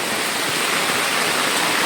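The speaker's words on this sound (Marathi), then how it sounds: "आज सांगितलेलंच आहे की मुसळधार पाऊस आहे" Heavy rain pouring down on a farm in a village, a dense, loud, continuous hiss with no breaks and no voices.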